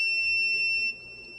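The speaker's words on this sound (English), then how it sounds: "Did that just beep?" A single steady electronic beep holds a high, pure tone for just under a second, then cuts off, leaving faint room noise.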